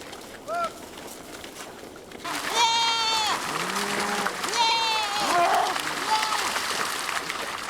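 Sheep and goats slipping while crossing a frozen river, with several drawn-out bleats rising over a steady wash of background noise and scuffling.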